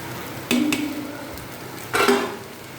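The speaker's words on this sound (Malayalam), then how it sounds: "തേങ്ങ ചേർത്ത് കൊടുത്തു" Grated coconut is tipped into a moringa leaf and egg stir-fry and stirred in a pan, giving two short clattering scrapes of a utensil on metal with quiet cooking noise in the gaps.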